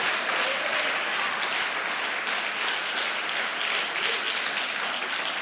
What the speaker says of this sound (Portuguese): Se vai aplaudir, pode aplaudir bem forte.